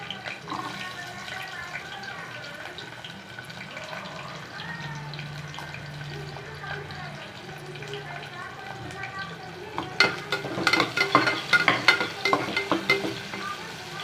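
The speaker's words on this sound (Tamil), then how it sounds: "இப்போ சின்ன வெங்காயம் போட்டுக்கலாம்" Small shallots hit the oil for a mutton curry, with a soft background hiss at first and a faint murmur in the middle. Louder crackling sizzle and stirring scrapes then burst in near the end.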